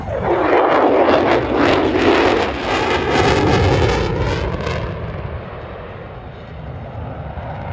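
An F-35 Lightning II fighter jet on an aircraft carrier roars loudly and close, its engine rumble swelling then easing off and fading toward a lower, distant drone.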